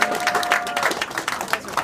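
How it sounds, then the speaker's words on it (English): Audience applause honouring NHL defenseman Jake Gardiner after his 300th National Hockey League game, a brief, loud wash of many hands clapping together. "How about a warm round of applause for a man who played in his 300th National Hockey League game last night, Jake Gardiner."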